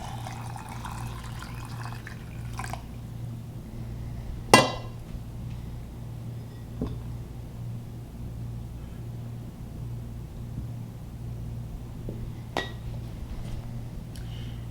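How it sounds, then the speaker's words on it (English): Onion stock poured into glass canning jars indoors, a soft, steady trickle of liquid broken by one sharp glass clink and a few lighter taps, all fairly quiet over a constant low electrical hum with no talking. "And we'll pour this in to about an inch."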